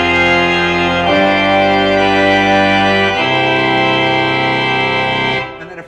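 A church tracker pipe organ sounds at full organ with reed stops added, loud brassy sustained chords changing a few times before releasing into the room's reverberation at the end, with no talking.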